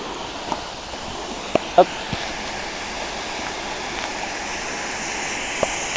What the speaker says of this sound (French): Il n'y a rien à faire d'autre qu'à rincer à l'eau.